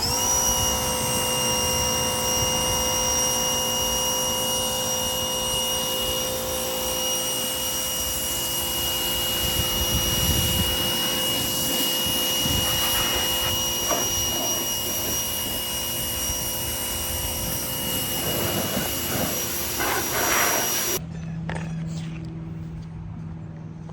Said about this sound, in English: We're just going to use the pressure washer again, but with this white tip